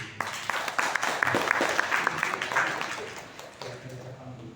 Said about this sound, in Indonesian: Aplaus untuk Bapak Sony